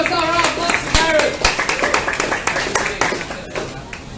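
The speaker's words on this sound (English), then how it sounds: "Give us a round of applause to Khairun." An audience at a Green Drinks KL evening event gives a round of applause, hand claps building into a steady patter that fades over a few seconds, with a voice speaking over the start.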